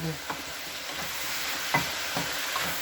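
Red, green and yellow peppers cooking in a pan for sweet and sour pork, a steady sizzle with soft stirring scrapes at intervals, close and alone.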